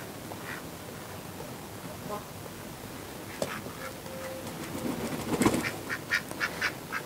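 Ducks in a spring garden kitchen plot give a few short, moderately close quacks and nasal calls amid soft outdoor ambience and light rustling.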